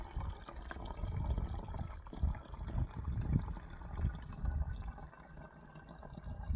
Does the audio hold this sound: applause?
no